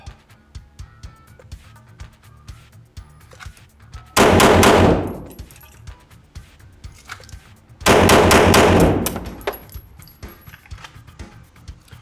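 Pistol fire at an indoor shooting range with a target simulator: two loud bursts of rapid shots a few seconds apart, each ringing off briefly, over faint intermittent clicking.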